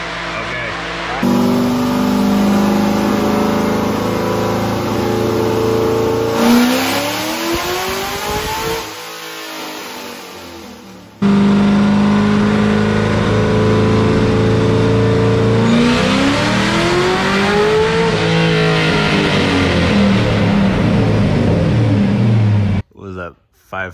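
A supercharged LSA engine in a 1972 Monte Carlo revs hard on a dyno, with loud rising and falling pulls, a brief drop near the middle, then a second long climbing pull before cutting off, with voices in the background.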